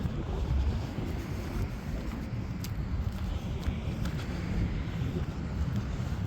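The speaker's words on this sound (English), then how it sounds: "There's quite a strong wind." Strong wind buffets an outdoor microphone at a lakeside RC boat run, a steady loud low rumble with gusts throughout and no voices.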